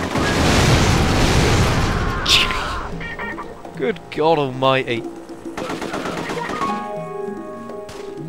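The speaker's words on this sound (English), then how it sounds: "Massive explosion." A massive explosion in the video game The Getaway booms loudly at the start and rolls out into heavy rumble, followed by scattered shots and effects while a voice speaks over the game audio.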